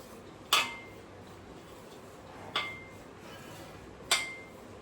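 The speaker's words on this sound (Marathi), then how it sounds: "अर्धी वाटी रवा. आता हे छान मी मिक्स करते." A spoon clinks against a bowl while half a bowl of semolina is mixed for a homemade mango sweet: three sharp, isolated clinks spaced a couple of seconds apart, with a quiet room in between.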